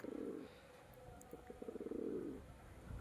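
Pigeons, including a golden-eyed pair kept in a loft, coo in low rolling phrases, two longer bursts framing a stretch of quieter pulsing calls, close by with no talk.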